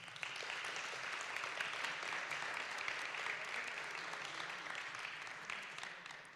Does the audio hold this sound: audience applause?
yes